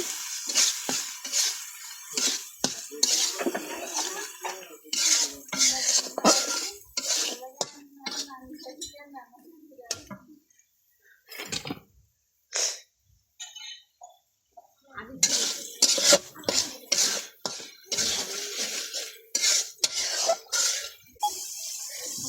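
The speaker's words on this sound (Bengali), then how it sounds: "মশলা কষানো হচ্ছে" Spices being stirred and fried in a pan with salt and chili powder, a utensil scraping and clinking against the metal in irregular bursts with brief pauses, close and moderately loud.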